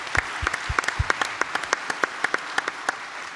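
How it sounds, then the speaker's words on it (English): Sparse applause from a small audience at a 2018 Chilliwack mayoral debate, a few distinct hand claps landing in a loose, uneven rhythm in a hall, with no one speaking. "Just give them a round of applause."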